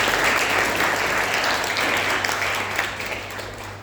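A church congregation at a Korean Sunday worship service bursts into loud, dense applause that holds steady and then eases off slightly toward the end.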